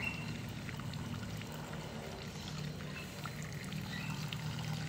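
Water poured over a toy car, a continuous steady splashing stream at close range, alone with no talk.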